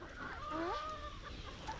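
Native chickens cluck softly while being fed on a small farm, a few short rising calls close by over faint background noise.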